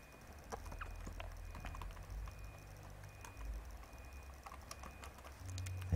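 Keys tapped on a computer keyboard while entering text, a quick patter of faint clicks close by, quiet against a low background hum.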